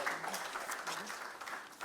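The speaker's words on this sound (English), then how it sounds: "So they deserve a round of applause for this work" Brief stretch of audience applause in a lecture hall for scholars' work, a steady wash of hand clapping from many people at moderate distance.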